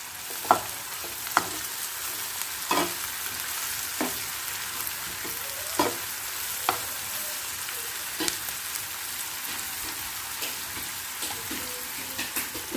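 Onions sizzle steadily as they fry in a pan during egg fried rice preparation, with sharp scraping stirs and clinks of the spatula recurring throughout. No one speaks.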